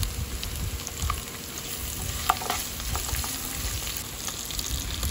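Chopped coconut pieces fry in a pan with a steady, continuous sizzle, broken by occasional light scrapes and clicks from stirring.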